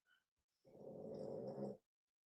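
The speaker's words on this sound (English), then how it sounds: "are we picking up this snoring?" An animal snores softly in a quiet radio studio, one drawn-out rasping breath of about a second, faint and close, otherwise near silence.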